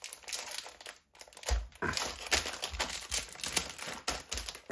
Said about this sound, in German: ich öffne jetzt endlich mal 5 Wundertüten davon wieder